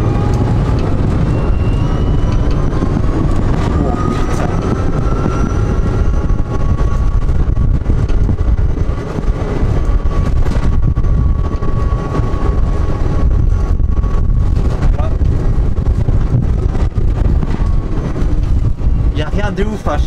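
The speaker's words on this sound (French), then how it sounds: "Donc je vais essayer d'accélérer un peu." A Renault 4L, just back on the road after four years of restoration work, picks up speed on a straight from about 10 km/h, its engine and road noise loud and steady throughout with a voice talking over it.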